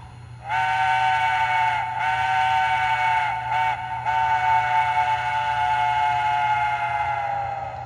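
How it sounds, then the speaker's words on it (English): An MTH Protosound 3.0 model train's whistle sounds in a grade-crossing pattern: two long blasts, a short one, then a final long blast, loud and near. "Function 12, you just heard, I kind of spoiled it, is the grade crossing whistle"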